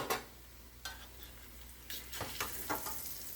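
Vegan burger patties frying in a pan, a soft continuous sizzle with a few faint scraping and stirring clicks, no talking.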